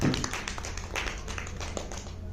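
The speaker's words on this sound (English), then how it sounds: "Round of applause to all the audience as well." Audience applause at a medical panel discussion, a steady patter of many hands clapping at moderate volume, rather distant, with no talk over it.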